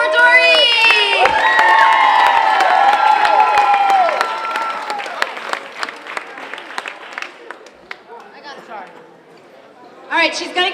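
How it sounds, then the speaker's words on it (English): Audience at a Relay For Life event at Bloomfield High School breaks into loud applause and cheering for Doreen, with shouts and whistles over steady clapping that thins out midway, then swells again briefly at the end. "A round of applause for Doreen"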